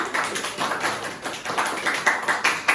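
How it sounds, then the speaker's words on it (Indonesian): A short burst of clapping from a small classroom group, quick overlapping claps close by for a few seconds. "Kasih tepuk tangannya semua"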